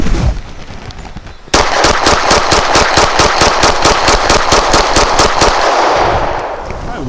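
A CZ P10C pistol with an extended magazine fires Remington 124 grain rounds in a loud, rapid, evenly spaced string of roughly twenty sharp shots that starts abruptly and ends in a fading echo.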